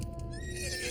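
A horse neighs close by with clopping hooves underneath, on a medieval-style film soundtrack with a steady low rumble throughout.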